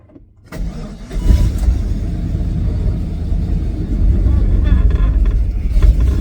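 A Chevrolet/GMC engine with a throttle body fault kicks into life and idles loudly with an uneven, lumpy rumble from a misfire, with talking over it.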